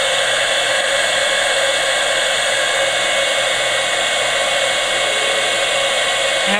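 A hair dryer blows steadily and loudly for the whole stretch, drying paint on a distressed cardboard birdhouse, with a constant airy whoosh and a low motor hum and no voices.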